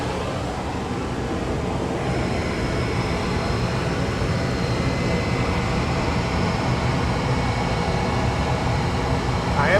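A cheap $18 imported diamond wheel turns slowly on a grinder, a steady, unbroken mechanical whir that holds at an even level for about ten seconds.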